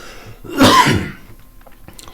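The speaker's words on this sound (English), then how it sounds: "probably shouldn't cough right after I turn up the mic" A single harsh cough bursts out close to the microphone, then fades into quiet room noise.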